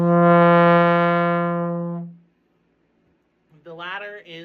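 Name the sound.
trombone long tone with surging sound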